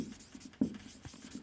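Marker or chalk writing on a board during a biology lesson: a few faint, soft scratching and tapping strokes close by, quiet and brief.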